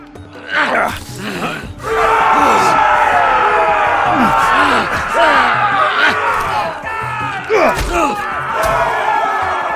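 An arena crowd in the Telltale Game of Thrones video game roars and cheers loudly and continuously, with many shouting voices swelling after a brief opening burst.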